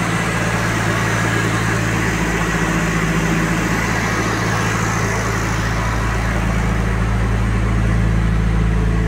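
Mercedes W202 M104 turbo engine idling roughly on a cold day, a loud continuous low rumble with uneven pulsing throughout, heard close up without any voices.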